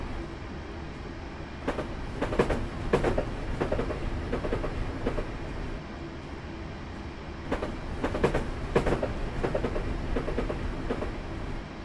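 A UK train rolls past on the Faversham to Rochester route in Train Simulator, a steady low rumble punctuated by repeated rhythmic clickety-clack bursts of wheels over rail joints, fairly quiet and without voices.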